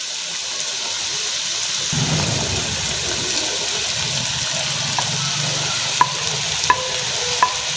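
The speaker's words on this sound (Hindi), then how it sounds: "अब हम इसमें कीमा डालेंगे। इसके साथ ही हम लोग मिक्सचर डाल देंगे।" Minced meat and spice mixture drop into hot oil in a pan for aloo keema, giving a soft thump followed by steady, loud sizzling and frying close by, with a few sharp spoon clinks from stirring near the end.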